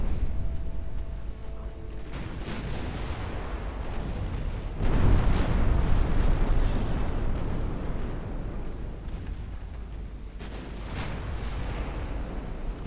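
Naval guns fire on a warship in Ultimate Admiral Dreadnoughts, a 1931 US fleet battle: a continuous heavy roar of artillery with repeated booming salvos, the loudest blast in the middle, over rumbling explosions.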